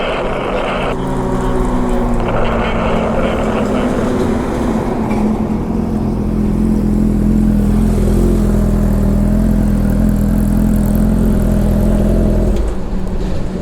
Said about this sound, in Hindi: आपकी बाइक की आवाज़ आ रही है?